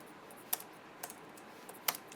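A computer keyboard is typed on while entering Python code to import NumPy, giving a few sparse, quiet key clicks spaced apart over a soft background hiss.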